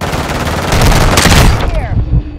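Heavy automatic gunfire rattles nonstop in a Call of Duty Warzone 2.0 battle royale match, loud and dense with overlapping bursts for about two seconds before it breaks off into scattered shots.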